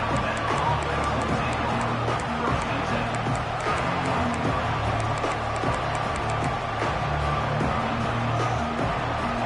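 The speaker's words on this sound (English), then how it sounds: "This crowd ready to make its presence known." Stadium crowd at a USC college football game, a loud continuous roar of many voices filling the space, with a commentator talking over it throughout.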